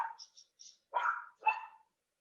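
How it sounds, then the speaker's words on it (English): Puppy barking indoors: a few close, sharp yips followed by two louder barks, separated by short silences. "Is that a puppy I hear?"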